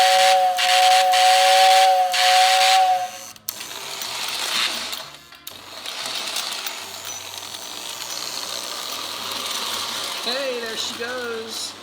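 A 1950s Lionel toy train whistle blows loud and steady for several seconds, cuts off, then gives way to a softer hissing rumble with a couple of short rising toots near the end.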